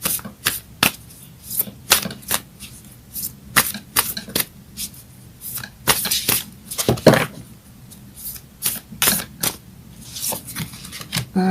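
Moonology oracle cards being shuffled by hand, a rapid series of crisp riffling and slapping bursts repeating irregularly, close and clear with no talk.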